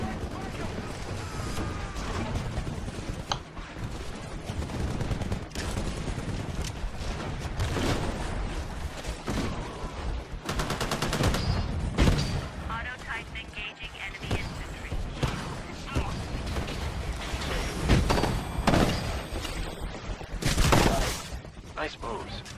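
Smart Pistol gunfire in the video game Titanfall, dense rapid bursts of shots mixed with mechanical clanks and other game effects, loud and nearly continuous, with a voice talking at times.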